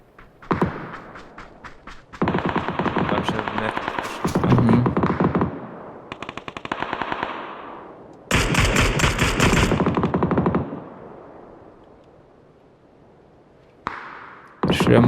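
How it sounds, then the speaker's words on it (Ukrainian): Long bursts of rapid automatic machine-gun fire in the video game PUBG crackle loudly in repeated volleys, separated by short pauses and a few single thumps. "Диви, диви, він по траві стріляє."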